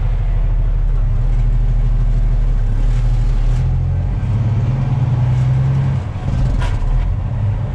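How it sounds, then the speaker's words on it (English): A semi truck's engine brake rumbles loud and steady from inside the cab, a deep droning growl that shifts pitch midway and briefly dips near the end. "Turn that engine brake off."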